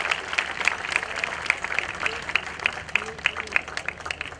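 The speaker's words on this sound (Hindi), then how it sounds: "आप लोग तालियां आपकी बजती रहनी चाहिए लगातार" An audience at a youth gathering and prize distribution applauds to welcome a guest, clapping in a steady rhythmic beat throughout, with voices and crowd murmur beneath.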